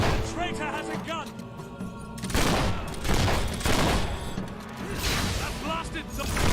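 Bursts of gunfire from a traitor's gun in a video game crack out loudly in several volleys, mixed with mechanical game effects and a voice speaking at the start.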